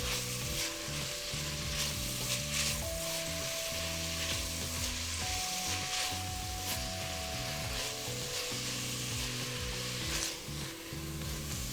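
Thinly sliced, evenly cut food sizzles steadily in a hot pan while being stirred and mixed, a constant frying crackle with soft scraping strokes and faint tonal hum beneath.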